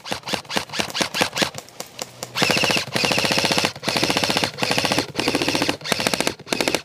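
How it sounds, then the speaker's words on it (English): Rapid bursts of airsoft gunfire aimed at opposing players during a tactical field game, a sparse rattle of shots at first, then several sustained, loud automatic strings broken by short pauses. "I decided to get my gun up and shoot at people"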